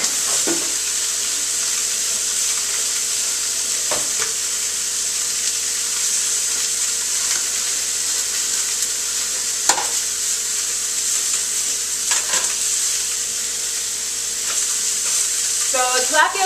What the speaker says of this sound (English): So tilapia cooks pretty quickly.